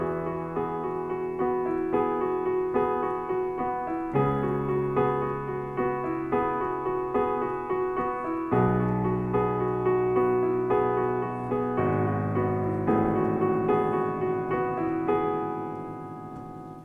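A piano plays the accompaniment to a song with both hands, slow sustained chords over single left-hand bass notes, calm and clear, with no talking.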